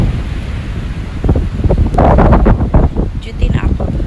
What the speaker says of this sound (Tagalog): Ang hangin. Nakitarinig ba yun?